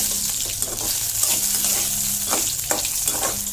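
Prawn kurma masala sautés in a pan, a steady close sizzle and frying hiss with scraping stir strokes running through it and no voices.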